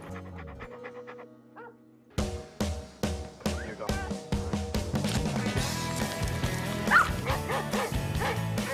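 Dogs off leash in Central Park bark and yip in a rapid series of sharp, close yelps, with panting and whimpers mixed in, then a dense, overlapping chorus of barking that keeps going to the end.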